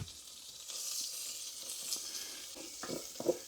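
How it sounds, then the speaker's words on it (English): Chorizo sausage sizzles and spits in a small Trangia camping pan, a steady hiss with occasional louder crackles and pops toward the end, close by and alone. "Next we'll go in with chorizo sausage."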